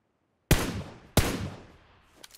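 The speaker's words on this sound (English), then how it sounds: "Shoot again." Two sharp gunshots in PUBG Mobile crack out about two-thirds of a second apart, each with a decaying echo tail, followed by a faint click; no voices.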